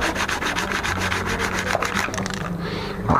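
Motorcycle sintered-metal front brake pads rubbed back and forth on a flat abrasive surface, giving a steady, close, rhythmic scraping that continues throughout with no speech.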